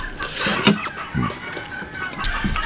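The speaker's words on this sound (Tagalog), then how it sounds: "Ang ingay ng mga manok ko, mga idol." Chickens clucking nearby, a few short irregular clucks and scratchy calls over a light noisy background.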